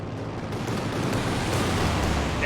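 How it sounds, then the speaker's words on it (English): Strafing-run explosions in Company of Heroes 2, a dense roar of blasts and rumbling gunfire building steadily and loudly across the whole stretch. "it looks like the strafing run does pin down this Volksgrenadiers as well"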